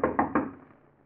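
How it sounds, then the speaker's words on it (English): Three quick knocks on a door in a radio drama, close and firm, the last one trailing into a short fading resonance with no voices. "there's a knock at his door."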